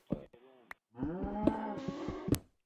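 A cow in a survival island video game gives a close, drawn-out moo after a few short clipped sounds, with brief clicks and a voice in between.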